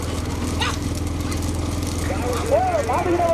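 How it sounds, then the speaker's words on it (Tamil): Bulls' hooves pound along in a bull cart race, a rapid drumming beneath a commentator's excited talk over a constant crowd and engine-like rumble. "ஆர் ரம்யா அவர்களுடைய மாடு மாடு முன்னாடி போயிருக்கு"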